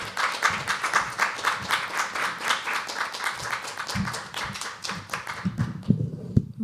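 An audience at a live poetry open mic at The Habitat claps for a poet, a dense, steady run of many hands that thins out toward the end.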